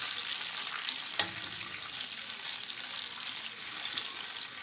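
A mashed mixture stirred in a cooking pot for beef trotter paya, a steady hissing sizzle with one sharp clack of a utensil early on, close and continuous without voices.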